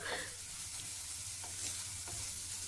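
Onions fry and are stirred in a clay pot, giving a steady, soft crackling sizzle close by with occasional scraping stir sounds and no voices.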